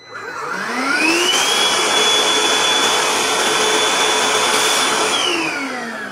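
A Bosch GAS 18V-10L cordless vacuum cleaner spins up and runs loud and steady with a rushing airflow roar and a high motor whine, then winds down at the end.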